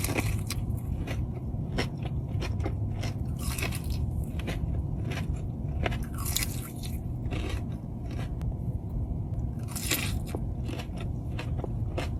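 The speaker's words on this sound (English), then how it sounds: "Let's eat some Wingstop." Crunchy Wingstop chicken wings in hot honey and garlic parmesan being eaten up close, with steady loud chewing, repeated crisp crackling bites and wet mouth sounds throughout, no talking.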